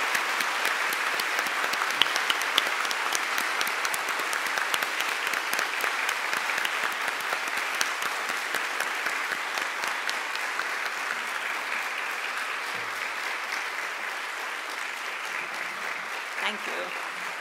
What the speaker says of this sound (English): may I now invite you all to stand up and join me in applauding